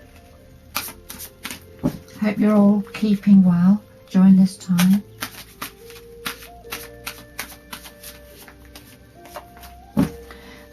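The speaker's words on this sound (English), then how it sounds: "I'll just do a final shuffle now." Tarot cards being given a final shuffle at a reading table, producing a run of quick dry riffling clicks close by. Someone talks over most of the shuffling.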